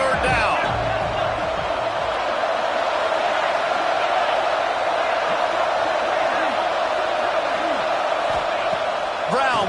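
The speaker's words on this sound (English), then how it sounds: "The Red Raider crowd rising to the occasion to help its defense on 3rd down." A Texas Tech Red Raiders football crowd in the stadium roars steadily on a third down against West Virginia, a dense continuous wall of cheering and shouting from start to finish, with whistles and whoops rising out of it.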